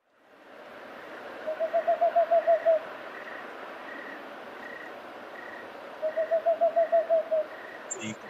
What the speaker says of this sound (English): This owl, this is a whispered screech owl.